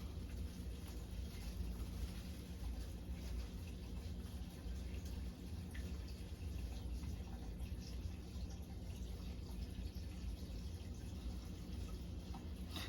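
Water pouring steadily into a tank before planting, a continuous low rushing and splashing fill that holds an even level throughout, with no talking.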